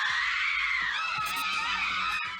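Several girls scream in horror in an FMV horror video game, a sustained, shrill, overlapping wail that stays loud and close throughout.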